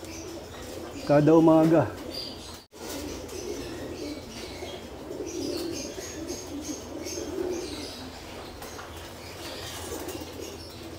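Pigeons in a loft give a brief close coo, followed by a soft rustling, shuffling background with faint bird sounds, and a person speaks briefly.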